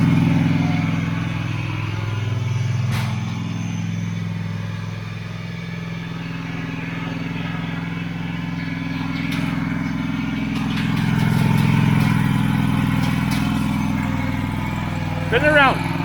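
A Scag V-Ride mower's engine runs steadily in the background, a low droning hum that swells and eases with throttle, joined by a few clicks and metallic knocks, while people talk nearby.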